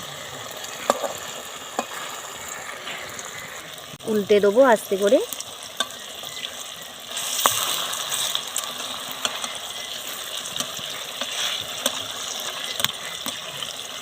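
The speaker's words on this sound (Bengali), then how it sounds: "আস্তে আস্তে এগুলো ভেজে নেব" Peas and flattened rice frying in hot oil over a low flame, a steady soft sizzle with stirring and clinks, briefly broken by a short voice, then a brighter, louder hiss of frying in the second half.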